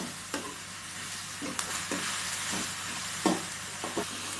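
Onions and tomatoes sizzle steadily in a hot pan while being stirred for a coconut onion chutney, with intermittent spoon scrapes and clacks against the metal.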